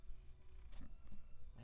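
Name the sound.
cat purring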